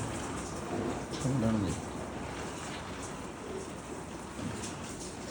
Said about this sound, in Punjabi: ਮੀਂਹ ਬਹੁਤ ਪੈ ਰਿਹਾ ਬਈ